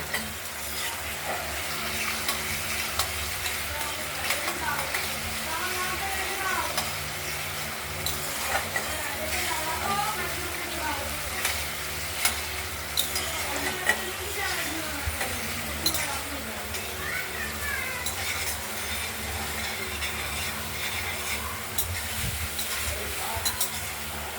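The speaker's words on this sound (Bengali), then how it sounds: "মশলাটা কষানো হচ্ছে" Spice paste for a rohu fish and potato curry fries and is stirred in a pan, a continuous sizzle with scattered scraping and clinking, a voice murmuring faintly underneath.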